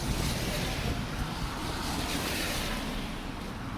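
Strong wind roars and buffets on a bridge during a snowstorm, a dense, steady rushing noise across the whole clip, close and loud, with no clear voices.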